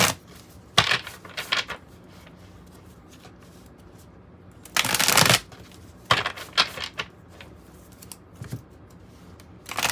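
A deck of tarot cards is shuffled by hand in bursts of riffling and soft slapping, with several short flurries separated by quiet pauses; close and fairly loud, no voices.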